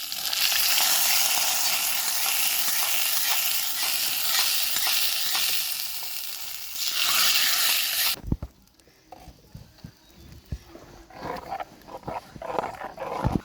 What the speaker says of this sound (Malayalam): വറ്റൽമുളകും കറിവേപ്പിലയും കടുകും ഇത് നമുക്ക് ഇതിലേക്ക് വറവിട്ട് കൊടുക്കുക